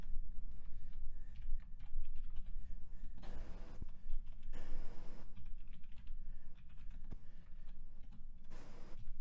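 Fast bursts of computer keyboard typing, a programmer entering JavaScript code; steady close clicking with brief pauses, no talking.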